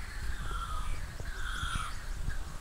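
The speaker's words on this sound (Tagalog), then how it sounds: "Ayun, may uwak sa taas." A crow caws from the treetops near Bolinao Falls, giving several harsh, drawn-out calls in a loose series over a rumbling outdoor background.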